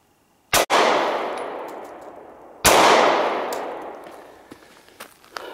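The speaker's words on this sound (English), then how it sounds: "So let's go ahead and fire a couple more." Two gunshots fired into a SafeGuard Armor Stealth bulletproof vest, each a sharp, loud crack with a long ringing decay, a couple of seconds apart, followed by faint clinks and handling noises.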